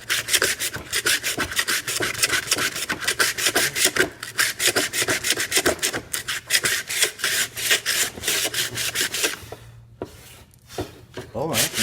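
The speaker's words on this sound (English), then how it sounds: "Smoothing out that whole piece of wood." A homemade hand sander scrubs across a piece of wood in fast, rhythmic back-and-forth strokes, loud and close, pausing briefly near the end before resuming.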